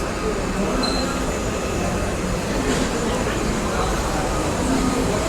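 Steady rumble of a train idling at a station, a broad constant hum with faint distant noises and no clear speech.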